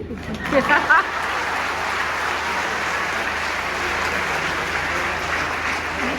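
Sustained applause fills an auditorium after a performance of the play Chanakya, dense and steady for several seconds, with a brief burst of louder voices and cheering near the start.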